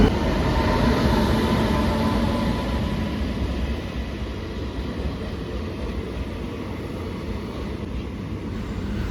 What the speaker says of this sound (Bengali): ট্রেন আমাদের এখন চন্দ্রকোনা রোড স্টেশন ছেড়ে সামনের দিকে এগিয়ে চললো